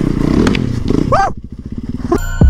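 A Yamaha YZ450FX supermoto motorcycle rides past close and loud, its engine note rising and falling with throttle, amid wind and clattering noise.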